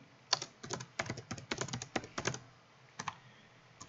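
Keys on a computer keyboard are typed in quick, uneven bursts of close, crisp clicks, with a short pause before a final few taps.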